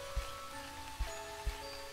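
Steady rain falling in the Starbound video game, a soft even patter with a few low thuds and faint tonal game sounds underneath, no voices.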